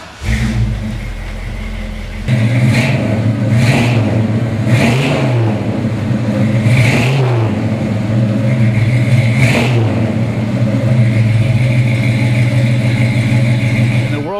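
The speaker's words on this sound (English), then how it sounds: "How about I start it for you, because the car just sounds, with the 400 stroker motor in it," A 1967 Ford Mustang GT350 convertible with a 400 stroker motor cranks and fires at about two seconds, then settles into a loud, rumbling idle broken by repeated sharp revs, roughly every one to three seconds.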